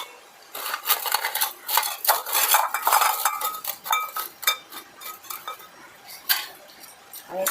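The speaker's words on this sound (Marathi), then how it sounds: "आता आपण मोठं भांडं घेऊ आणि त्याच्यामध्ये आपले ब्रेडचे तुकडे टाकून घेऊ." Pieces of bread are dropped into a large metal pot in a home kitchen, giving a run of light clinks, taps and scrapes against the vessel, close and irregular, with no speech.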